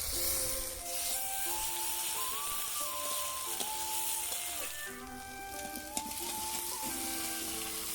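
Ground spice paste sizzles quietly in hot oil with onions, a faint continuous crackle under louder background music with a sung melody, and a single sharp clink near the end.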